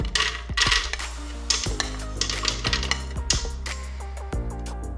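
Almonds drop into the metal jar of a juicer machine, a run of small hard clinks and rattles, close and fairly loud, with a few louder hits in the middle.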